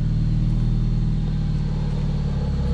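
A Mazda Miata with a new mid pipe exhaust idles and creeps in reverse, its loud, steady low rumble filling the clip with a throbbing burble and no voices.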